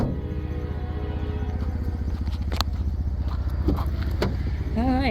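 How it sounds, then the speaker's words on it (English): A 2014 Ford Edge with 226,000 miles idles steadily nearby, its engine giving an even rhythmic hum with a few small clicks and scrapes on top. "the motor sounds like it's doing what it's supposed to be doing"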